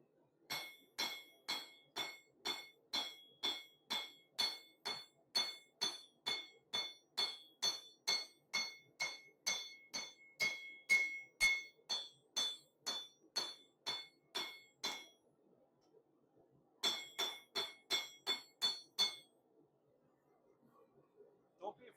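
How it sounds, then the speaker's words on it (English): Hot metal hammered on an anvil while shaping a saber: a long run of about forty sharp, ringing metallic strikes at a steady quick pace, a short pause, then another burst, close and clear. "Don't be afraid to choke up on the hammer. I got the metal super hot"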